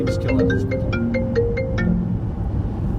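A mobile phone ringtone plays a repeating melodic pattern of bright electronic tones, loud and close, sounding steadily over a low background hum at a dog-breeding question-and-answer session.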